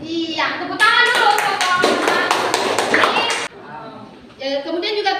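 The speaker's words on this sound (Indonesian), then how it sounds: "tepuk tangan dulu" A classroom of students claps hands together in a short burst of sharp, fairly close claps lasting about three seconds, with a teacher and children talking before and after.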